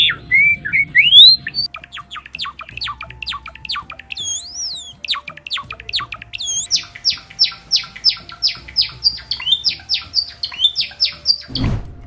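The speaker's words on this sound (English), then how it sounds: "Male and female Java sparrows both have a voice that soothes the soul." Java sparrows in an aviary trill and chirp continuously, with rapid repeated high tweets, a few squawks and rising whistles, close and clear, ending with a brief low thump.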